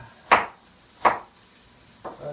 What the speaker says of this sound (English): So I just chop it.